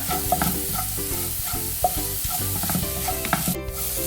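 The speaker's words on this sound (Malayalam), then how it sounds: "ഇനി നമ്മൾ എടുത്തു വെച്ച പൊടികൾ, മഞ്ഞൾ പൊടിയും മുളക് പൊടിയും, അത് കാശ്മീരി ചില്ലിയാണ്, അതിട്ടൊന്ന് ഇളക്കി കൊടുക്കുക." Turmeric and Kashmiri chilli powder stirred into onions frying in a pan for chicken pasta, a continuous loud sizzle with repeated scraping strokes of a spoon, close and without talk.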